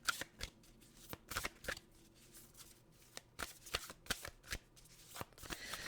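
Oracle cards being shuffled by hand, soft papery riffles and flicks in uneven bursts, close and quiet, with no talking.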